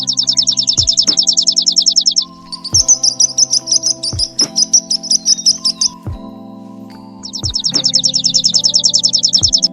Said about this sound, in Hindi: ये है गौरैया। गौरैया को इंग्लिश में स्पैरो कहते हैं।